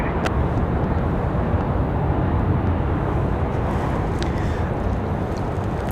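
An airplane arriving at Raleigh Durham International Airport, a steady, loud broadband jet roar that holds constant throughout, with no talk over it.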